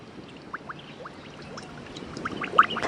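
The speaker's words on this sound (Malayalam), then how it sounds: "വെളിച്ചെണ്ണ ഒഴിക്കാമേ." Coconut oil is poured into a pan while cooking outdoors in a quiet spot, giving a soft, steady pour with faint crackling ticks that grow slightly louder toward the end.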